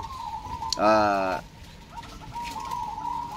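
A single soft, rolling zebra dove coo rises briefly over a quiet background with a faint steady tone.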